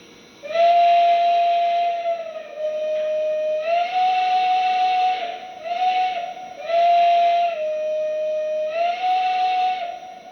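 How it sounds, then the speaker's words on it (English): A Lionel Legacy Russian Decapod model locomotive sounds its deep hooter-style steam whistle in several sustained blasts of varying length, separated by short hissy gaps, close and loud with no talking. "it's like a hooter whistle"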